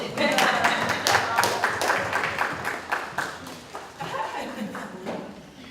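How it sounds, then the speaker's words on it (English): Scattered audience clapping at a talk, with sharp irregular claps from a modest group that thin out toward the end, mixed with some voices. "y'all can give her a round of applause"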